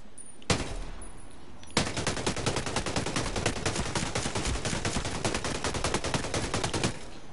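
Gunfire in Ghost Recon Breakpoint: a single sharp shot, a short pause, then a long unbroken burst of rapid automatic fire, loud and close, with no voices.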